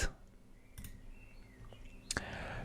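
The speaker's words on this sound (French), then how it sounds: "Pour l'enlever, je vais cliquer sur Edit." Two crisp computer mouse clicks, close and isolated, separated by a short quiet pause while editing an image.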